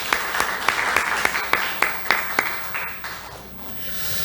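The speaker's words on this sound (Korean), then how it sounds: "우리 박수로 환영하겠습니다." A church congregation at a Sunday service applauds to welcome new members, a sparse run of distinct claps fading out over a few seconds in a reverberant room.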